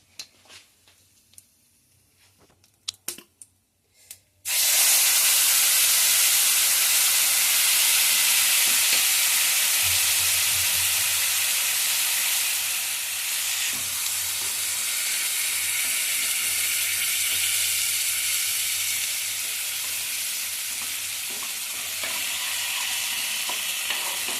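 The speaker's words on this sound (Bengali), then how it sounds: "এবারে যে পেস্টটা বানানো ছিল, টমেটো, আদা, কাঁচা লঙ্কা আর বাদাম একসাথে, এটা দিয়ে দেবো কড়াই" A paste of tomato, ginger, green chilli and peanut hits a hot wok for dum aloo. After a few quiet seconds with faint clicks, a sudden loud, hissing sizzle bursts in and stays strong and steady.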